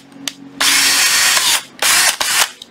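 A Makita cordless hammer drill runs loudly in two sustained bursts of about a second each, with short pauses and brief clicks between them.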